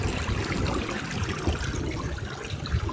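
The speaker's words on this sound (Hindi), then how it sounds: "वो देख कितना प्यारा पानी आया" Sea water rushing up a beach during a picnic, a dense and fairly loud wash of surf and foam filling the whole stretch without pause.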